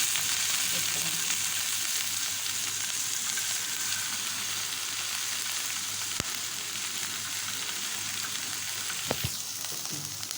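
Onion frying in oil for tomato chutney, a loud, dense, steady hiss of sizzling heard up close, broken by a couple of brief metallic knocks from a utensil, with no talking.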